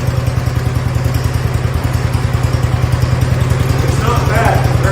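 A 1969 Blue Patio tractor engine runs steadily at idle, giving a loud, close, even low chugging pulse with a faint clatter throughout.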